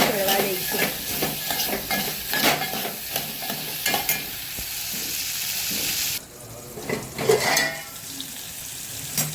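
Potato chips sabzi frying in a pan while a spoon stirs it, steady sizzling with scraping and clinking against the metal, close and continuous, quieting for the last few seconds.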